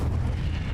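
The Incendio fire spell is cast in Hogwarts Legacy: a short, heavy, rumbling burst of blast that is loud and dense from start to end.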